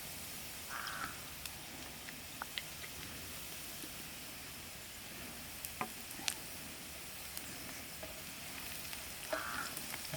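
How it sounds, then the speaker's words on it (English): Onions sprinkled with salt fry in a pan outdoors on a still, sunny morning, a steady soft sizzle running throughout with a few faint bird calls and light clinks over it. "It's getting up nicely fried."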